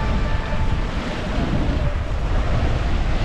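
Rough, stormy sea churns loudly and continuously, with waves surging and crashing while strong wind buffets the microphone, during a typhoon that has halted fishing.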